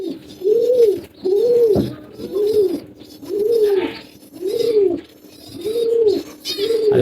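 Pigeons in a Bangladeshi loft give a close, steady series of about seven soft, rolling coos, evenly spaced and clear, with light rustling between them and no talking.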